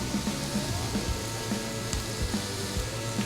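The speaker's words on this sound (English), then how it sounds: "We'll put the bacon right on top while that's cooking." Extra thick bacon sizzles in a pan, a dense, steady crackle and hiss that carries on evenly throughout with a few faint clinks, close up and without talking.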